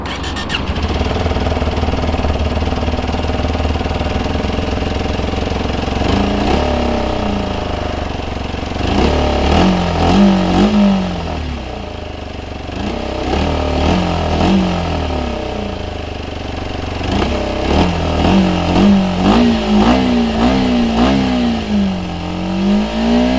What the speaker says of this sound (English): So let's get on the road and I will show you how it rides and how it handles.